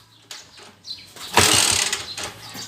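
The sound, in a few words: motorcycle engine running with abnormal noise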